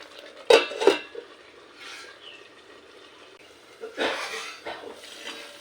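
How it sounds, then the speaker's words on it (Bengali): Dry spices are stirred and sautéed in a pan for a Bengali katla fish curry with potatoes, mostly as metal scraping clinks, two louder clatters of spoon on pan, and a soft sizzle underneath. "আবারও দু তিন মিনিট শুকনো মশলার কাঁচা গন্ধ যাওয়া পর্যন্ত আবারও একটু কষিয়ে নেব"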